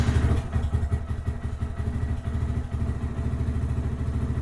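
A Lifan KPM 200 motorcycle engine runs at a steady idle, close and loud, with a fast even thumping pulse throughout and a brief louder burst at the start, no voices.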